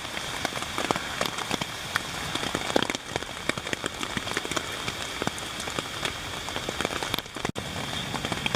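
Steady rain drums on a tent on a Smoky Mountains backpacking trip, a continuous close patter of drops with no voices.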